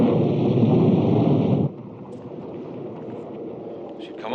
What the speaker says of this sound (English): Perhaps Rodin's attorney has been caught in the storm.